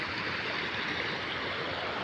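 A river swollen to both banks after two inches of rain in twenty minutes near Vaniya village, Junagadh, roars as a steady, broad, close rush of floodwater running past a bridge, with no voices.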